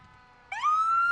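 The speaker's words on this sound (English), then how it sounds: "This is a 1980 in-plant fire truck." A 1980 in-plant fire truck, one of only 12 built, sounds its siren at a fire muster parade in Burnsville: a loud electronic wail that kicks in abruptly and sweeps upward into a sustained high tone, heard nearby with no talk.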